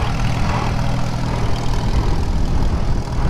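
A 1939 Farmall H tractor, repowered, runs in third gear with a steady, loud low engine drone and throbbing exhaust that holds without a break, no voices over it.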